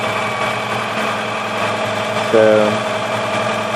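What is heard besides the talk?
1966 Volvo 122S engine idling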